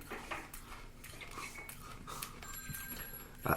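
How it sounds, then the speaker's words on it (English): A telephone rings in a scene from the film Gremlins, heard faintly as repeated bell bursts beneath a busy, cluttered soundtrack with clinks and background noise. "The phone's right there!"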